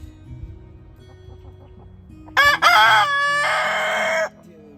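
A rooster on a homestead crows once, loud and close, a full cock-a-doodle-doo over a low rumbling background hum.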